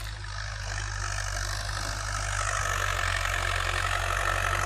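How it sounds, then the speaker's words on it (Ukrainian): A tractor engine's steady, continuous drone with strong low rumble, working a field of green-manure crops at constant load throughout, with no talking. "Трактор йде в нагрузочку по сидератах"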